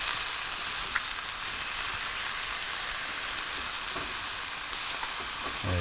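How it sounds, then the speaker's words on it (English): Chorizo sizzles steadily in a hot pan as it is stirred around, a dense, even hiss of frying fat that holds at a constant level with no talking. "Give that a little stir around,"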